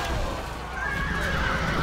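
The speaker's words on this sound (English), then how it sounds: "And these cataphract horse archers" Cataphract horse archers' horses neighing amid a video game battle, a whinny rising over dense, noisy battle ambience.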